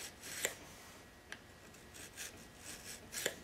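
A file laid flat pushes the burr along a knife blade, a few quiet rasping strokes with sharp scraping accents, faint and close, separated by short pauses.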